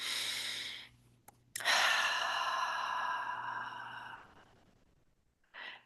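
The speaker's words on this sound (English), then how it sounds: "just take a deep cleansing breath" A single deep cleansing breath is drawn in and slowly released as a long, close, airy exhale, followed by quiet and a short softer breath at the end.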